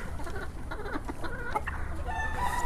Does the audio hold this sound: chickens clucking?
yes